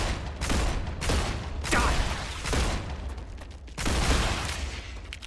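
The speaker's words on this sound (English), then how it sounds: "If you fire the gun in quick succession, it does have a recoil." Several loud, evenly spaced gun blasts from a player's weapon in the game StarRupture, each a sharp burst with a short decaying tail, fired in fairly quick succession with no talking.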